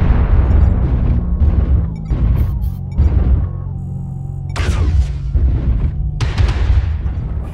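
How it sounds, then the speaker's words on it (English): Missiles explode against a mech in the video game MechWarrior Online. Several loud booming blasts land in quick irregular succession, some with sharp crackling bursts, over a low rumbling battle background. No one speaks. "I'm taking some hits. Incoming missile."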